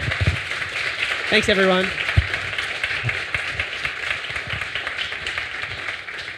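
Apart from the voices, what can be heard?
audience applause for a speaker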